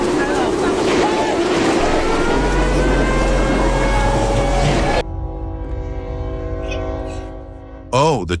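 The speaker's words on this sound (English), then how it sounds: "Then the train came like a steel lightning bolt." A train speeds past a truck stuck on the tracks during a violent windstorm, a loud roaring rumble first and then a sustained, harmonic horn blast that rings out close and clear.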